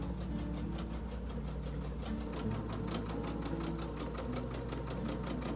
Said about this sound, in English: Now I'm gonna go to the sewing machine and sew.